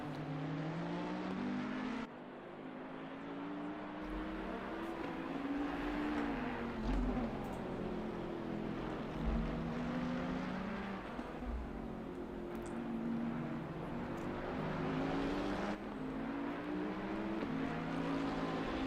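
GT3 race car engines at the Barcelona circuit in Assetto Corsa Competizione, revving and shifting through gears, repeated rising and falling engine pitches from several cars, moderately loud and continuous with no talking.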